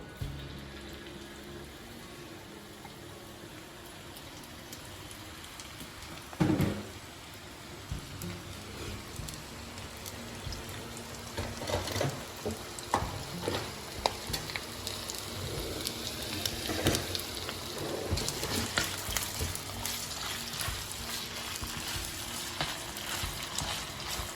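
Onions, garlic and Scotch bonnet peppers sizzle and crackle in a hot pan, with a brief louder splash early on, then a steady hiss that grows busier with popping.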